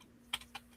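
Two or three light keystrokes on a computer keyboard click close by over a faint steady hum, spaced apart in a quiet room.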